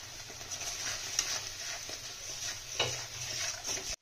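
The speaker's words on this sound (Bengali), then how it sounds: "আমরা এটা ভালোভাবে কষিয়ে নেব" A spiced potato mixture with cumin, turmeric and salt sautés in a pan, a steady soft sizzle under repeated scraping stirs, close and fairly quiet.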